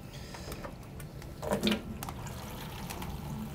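Water drains from a reef aquarium, a faint, continuous trickle and gurgle with a brief louder splash midway, close and quiet with occasional small clicks.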